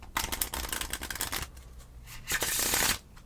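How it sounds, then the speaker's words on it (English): Cards are riffled and shuffled in several quick bursts, close and crisp, with a final longer riffle before it stops. "give me the deck, let me shuffle it"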